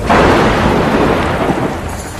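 Heavy rain pours steadily during a monsoon thunderstorm over the Himalayan Kedarnath valley in June, with dense, loud, continuous roaring noise and deep rumbling thunder beneath it, no voices present.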